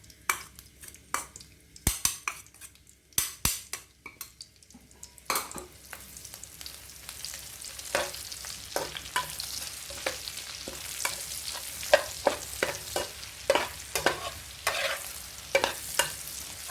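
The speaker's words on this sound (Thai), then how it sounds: "ใส่น้ำมันไปไม่ต้องเยอะมากแล้วเรามาทอดกระเทียมกันก่อนเลยค่ะ" Garlic sizzles and crackles steadily in hot oil, with sharp clinks of a utensil stirring against the pan, the frying growing louder and denser over time.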